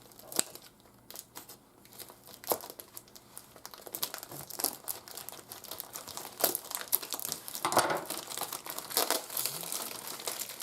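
Tape-sealed parcel packaging from an online haul is torn and wrestled open, with a long run of close crinkling plastic, sharp rips and scattered crunches coming in uneven bursts.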